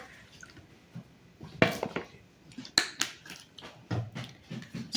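Chicken is mixed in a bowl with coriander powder, soy sauce, vinegar and chili sauce, giving close, wet squelches and light clinks of a spoon against the bowl in uneven bursts.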